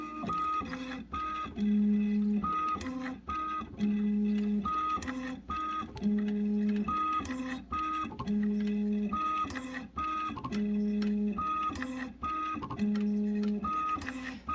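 A Matrix Filler Wizard packaging filling machine runs a cycle filling two disposable packages, giving steady repeated mechanical clatter and whirring pulses in a regular rhythm, close and fairly loud, with no talking.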